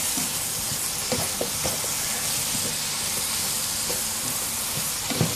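Porcini mushrooms fry in a hot pan with a loud, constant sizzling hiss, while scattered scrapes and knocks of stirring come through close by.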